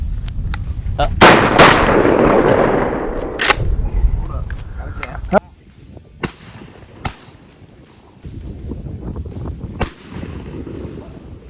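Several sharp shotgun blasts from a Landor Arms bullpup 12 gauge semi-automatic firing at thrown skeet outdoors, loud booms with echoing tails spaced over several seconds, with some background noise between shots.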